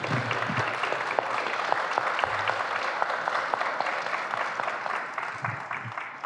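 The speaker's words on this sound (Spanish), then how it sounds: "les damos un fuerte aplauso nuevamente de felicitación" Guests at a wedding ceremony in El Saucito, Zacatecas, give a long, steady round of applause, a dense crowd of clapping at even loudness throughout with a few louder claps standing out.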